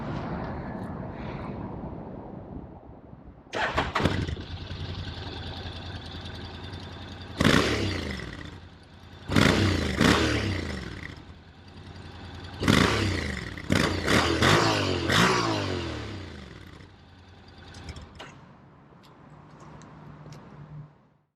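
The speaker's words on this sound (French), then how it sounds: "Nous allons effectuer un petit démarrage pour que vous vous rendiez compte du bruit sympathique que dégage ce Forza 750." A 2021 Honda Forza 750 DCT scooter engine starts, idles, then revs and accelerates in repeated loud bursts with gear changes, close by and without talk.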